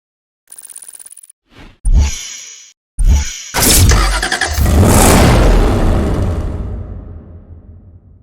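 An Aston Martin One-77 in Need for Speed Hot Pursuit Remastered starts with a couple of short cranking bursts, then fires into a loud, close revving roar that holds before tailing off.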